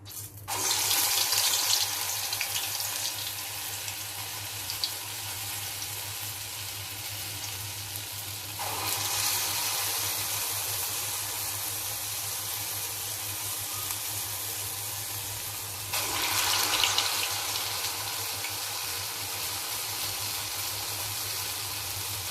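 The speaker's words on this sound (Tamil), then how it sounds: "எண்ணெய் காஞ்ச உடனே இப்போ வந்து வடை தட்டி போட போகிறேன்" Medu vada batter hisses and crackles in hot oil on a medium flame, a steady broadband sizzle that surges louder as fresh vadas drop in, close and with no talk.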